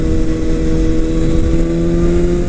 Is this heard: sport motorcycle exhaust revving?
yes